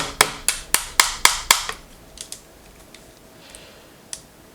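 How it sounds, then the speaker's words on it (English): A tack hammer taps a small pin into an airsoft M4A1 rifle: six quick, evenly spaced sharp metallic taps up close, then a few faint clicks and knocks of handling. "I'm going to take my tack hammer."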